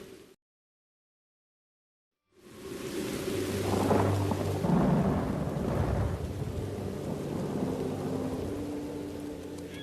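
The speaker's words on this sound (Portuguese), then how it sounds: "Mas isso não é chuva de primavera. É uma tempestade repentina." A sudden thunderstorm with heavy rain breaks after a few seconds of silence: deep rolling thunder swells over a dense, steady downpour that fills the rest of the clip without any voices.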